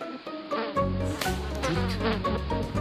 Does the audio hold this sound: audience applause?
no